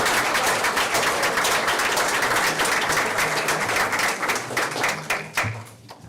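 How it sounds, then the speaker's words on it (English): Audience applause at a school board of education meeting, a dense, steady clapping from a full room that holds for several seconds before thinning out and fading near the end. "Let's give them another round of applause."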